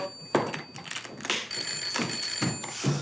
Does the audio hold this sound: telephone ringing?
yes